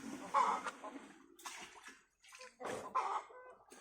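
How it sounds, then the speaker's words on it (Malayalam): Potash liquid fertilizer poured and mixed into water for organic farming, heard as a few short splashing, sloshing bursts separated by brief pauses, fairly close and moderately loud with no talking. "പൊട്ടാഷ് നമ്മൾ ഈ വെള്ളത്തിലേക്ക് 200 ml മിക്സ് ചെയ്യാൻ വേണ്ടി പോവുകയാണ്."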